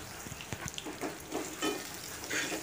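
Small onions and garlic with a pinch of asafoetida sautéing in a pan for a Tamil sundakkai vathal kuzhambu, a steady soft sizzle broken by a few light scrapes and taps, close and fairly quiet with no voices.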